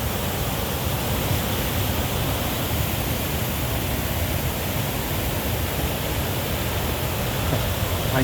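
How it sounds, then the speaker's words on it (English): Duden Waterfall at Lara, Antalya, Turkey, where a large volume of water pours down into the sea, heard as a loud, unbroken roar of rushing water. "And yet this amount of water is flowing down into the sea."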